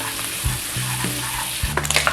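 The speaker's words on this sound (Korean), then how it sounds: "팬에다가 올리브유, 마늘하고 베이컨 넣어주세요." Garlic and bacon frying in olive oil in a pan over low heat, a steady close sizzle with a few clattering stirs and utensil knocks near the end, no voices.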